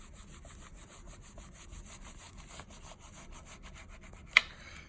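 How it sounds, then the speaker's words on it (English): Steady scraping and rubbing of a bone folder across glued paper on a handmade journal, a continuous close dry friction with one sharper scratch near the end. "I'm going to come back in and do some more rubbing here. Use the fat part of the bone folder."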